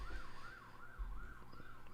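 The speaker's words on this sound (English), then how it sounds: "Sirens going on in the background." Emergency vehicle sirens wail outside, a steady rising-and-falling tone repeating several times, moderately distant and fairly faint, with no talking.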